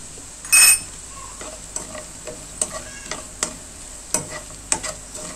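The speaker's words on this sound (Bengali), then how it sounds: "রসুন কুচিটা দিয়েও হালকা ভেজে নেব।" Chopped garlic frying lightly in a pan for white sauce pasta, a soft background sizzle broken by a scrape and a series of sharp utensil clicks and taps against the pan.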